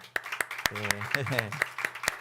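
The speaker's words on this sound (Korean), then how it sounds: "잠시 우리 환영의 박수" Scattered clapping from a church congregation welcoming visiting deacons at a Sunday service: a few sharp, evenly spaced claps running under someone speaking close by.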